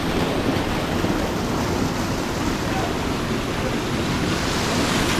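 A waterfall roars as a dense, unbroken wash of rushing water, loud and close throughout, with no pauses or distinct events standing out.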